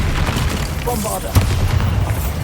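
The Bombarda explosion spell in Hogwarts Legacy sounds as a dense, rumbling blast over a constant roar of game noise, with one sharper boom near the middle and a voice shouting briefly over it.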